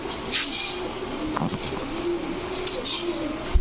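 A female Dhakaiya sabji pigeon with makhra eyes, a running bird, coos softly and repeatedly at close range over a steady background hum.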